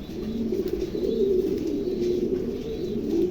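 Pigeons coo close by in low, rolling, repeated calls that run continuously, with no one speaking.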